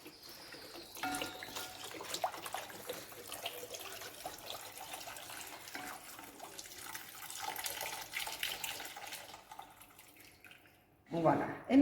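Natural juice, one litre, pours into a pasta pot: an uneven liquid splashing and trickling, fairly faint, with a louder clatter at the end; no voices.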